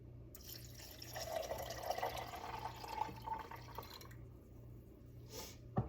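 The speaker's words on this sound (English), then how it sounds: "we're going to pour in the 2 cups of water" Two cups of water are poured into a nut milk machine, making a soft, steady splashing and trickling close by that lasts a few seconds before tapering off. The sound is quiet, with no voices.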